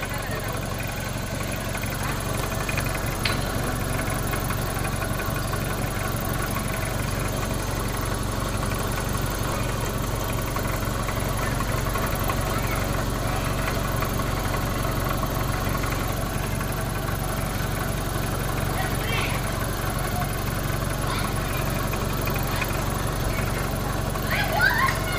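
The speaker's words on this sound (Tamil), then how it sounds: "லோ பட்ஜெட்டில் கூட இன்ஜின் ஹெட்ரூம் ஓப்பன் பண்ணி இன்ஜினோட நாய்ஸை லைவாக காமிக்கிறது" Hyundai Getz engine idling with the bonnet open, a steady low hum and rumble heard close up throughout, with faint background noise.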